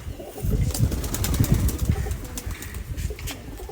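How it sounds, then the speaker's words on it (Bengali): A pair of Giribaz pigeons, cock and hen, coo in low, rolling murmurs while wings flap and scuffle nearby in a busy, close cluster of sound. "এটা নর কবুতর এই যে এটা মাদি কবুতর"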